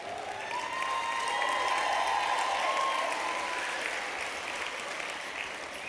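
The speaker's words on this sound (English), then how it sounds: "I also think you should give Mayor Nenshi just a little smidgen extra of the applause I know he deserves" Steady applause from an audience at a speech event in Alberta, a sustained wash of clapping that swells in the middle and eases slightly toward the end, with faint voices mixed in.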